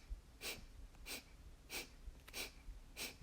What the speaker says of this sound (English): Just really focus on that sharp exhale of the breath through the nose.